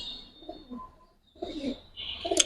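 A Giribaz flying pigeon coos softly at close range in a few low, rolling calls separated by a brief quiet gap, with faint background noise.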